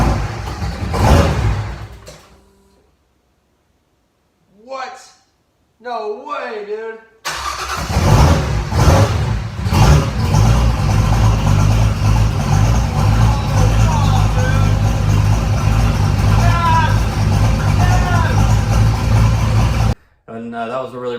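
An older car nicknamed Goldie, running a MegaSquirt controller on a new base fuel map, fires up abruptly and keeps running in a steady, loud idle. People talk briefly before and around the start.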